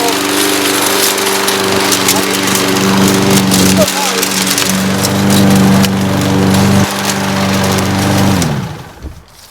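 A Husqvarna 675 AWD self-propelled lawn mower runs close by with a steady, loud engine drone that holds for several seconds and then drops away near the end.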